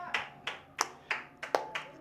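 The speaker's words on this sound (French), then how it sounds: "I know you are clapping to Jesus." A church congregation claps hands during a sermon: about seven crisp claps in a steady, even rhythm, moderately distant and fairly soft.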